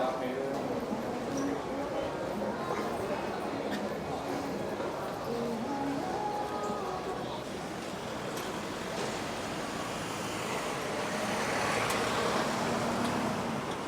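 Busy street traffic in Sham Shui Po, Hong Kong, forms a steady, dense roar of engines and road noise that never lets up, with a slight swell near the end.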